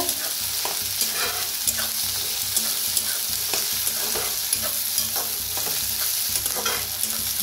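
Spring onions and onion with curry leaves fry in a pan while being stirred, a loud, close, steady sizzle broken by frequent rhythmic scrapes of the spatula, with no voices.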